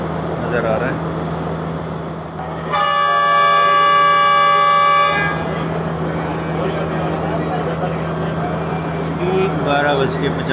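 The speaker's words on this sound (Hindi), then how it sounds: "डिपार्चर हॉर्न हो गया" A loud, steady departure horn from a Sri Lanka Railways train at Colombo blasts for a couple of seconds over a low mechanical hum and station noise.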